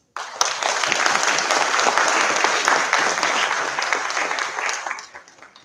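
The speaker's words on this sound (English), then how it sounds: "May we have a huge round of applause" An audience at an HR conclave at a business institute in Bhubaneswar bursts into applause, a loud, dense ovation of many hands that holds steady before tapering off near the end.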